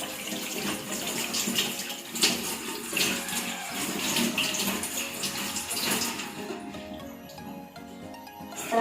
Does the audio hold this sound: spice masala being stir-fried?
no